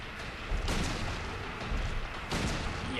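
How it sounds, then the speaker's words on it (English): A hunting rifle fires in the survival horror game Silent Hill 2, giving loud booming shots at an irregular pace over a dense, steady game soundscape with no voices. "we're getting out the hunting rifle"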